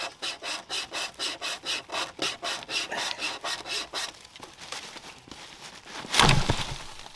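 A hand saw cuts through wood in a forest, with about a dozen regular back-and-forth rasping strokes close by, followed by fainter scraping and a sharp cracking snap near the end.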